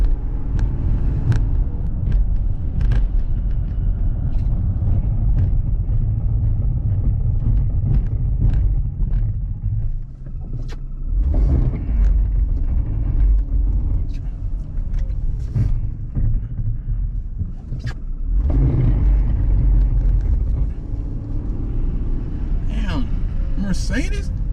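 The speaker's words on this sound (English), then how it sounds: "Mercedes, quit trying to give me traction. I just want to spin." A Mercedes car on snowy, slushy Atlanta roads revs as its wheels spin, a loud, close engine rumble rising and falling in waves with brief dips, while people talk over it.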